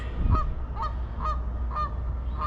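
Geese honk repeatedly in short bursts, roughly every half second, over a steady low background rumble outdoors by a partly frozen lagoon in Calgary.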